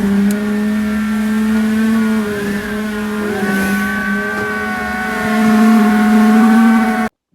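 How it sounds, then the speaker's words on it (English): BMW E38 740iL with a replaced alternator, its engine running steady and loud up close, a sustained idle drone with a slight rise in level near the end before cutting off, no talking. "So I'm gonna start the car."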